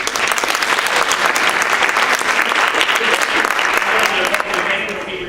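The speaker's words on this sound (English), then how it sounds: "I'll give them a round of applause." An audience claps for a school play's building construction class, a dense, loud, steady round of applause that carries on for several seconds before starting to fade, with voices faintly mixed in.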